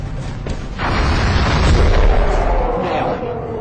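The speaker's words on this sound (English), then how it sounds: "That shot came out the left speaker." Booming gunshot in the strategy game XCOM Enemy Unknown, a heavy blast with a long rumbling tail that fills the moment, loud and close.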